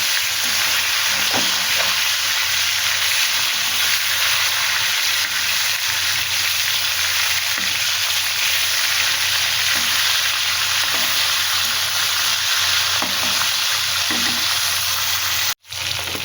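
Fish pieces rubbed with turmeric and salt fry in hot oil in a kadai and are flipped over, making a loud, continuous close sizzle with occasional soft scrapes, then a brief cutout near the end.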